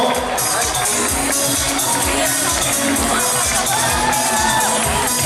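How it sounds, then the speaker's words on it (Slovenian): A large crowd at the Ljubljana Marathon cheers and whoops loudly and steadily, a continuous wall of voices with rhythmic clapping pulsing underneath. "En aplavz za prinašalko rož"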